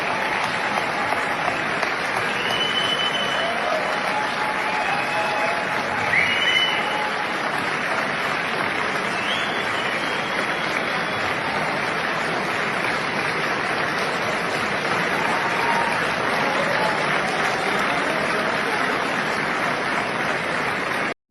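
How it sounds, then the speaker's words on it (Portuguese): Long standing ovation for Paulo Guedes, a dense wash of crowd applause that holds steady and loud, with faint voices rising briefly in the mix. "Todo mundo começa a aplaudir de pé"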